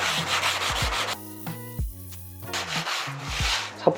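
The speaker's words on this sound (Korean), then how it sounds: "제일 강한 걸로 이렇게 사포질을" Close, scratchy strokes of coarse 80-grit sandpaper rasp back and forth in quick bursts during apartment renovation sanding, with a brief pause in the middle.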